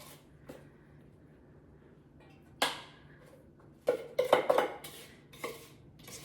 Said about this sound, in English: So now I'm going to put half my cake mix in each of the pans.